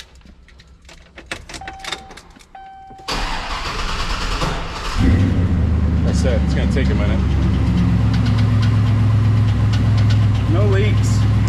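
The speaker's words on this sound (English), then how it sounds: "let's try to start this thing up" A Chevrolet Silverado SS V8 cranks for a few seconds, then catches and settles into a steady, loud idle that runs to the end, with someone talking briefly over the early part.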